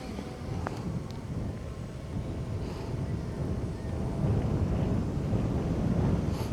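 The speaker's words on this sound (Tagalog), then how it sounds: "Lakas ng hangin." Steady low rumbling wind buffeting the microphone during a drone test flight, growing slightly stronger toward the end, with no voices.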